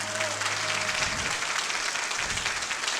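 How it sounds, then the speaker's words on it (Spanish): Audience at an evening music performance applauds steadily, a dense even wash of many hands clapping that holds for the whole stretch, with a faint voice trailing off at the start. "Yo quiero pedir un gran aplauso para este grandioso marco musical que esta noche nos"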